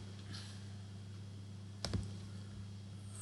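A single faint computer mouse click lands near the middle of a quiet stretch over a low steady hum.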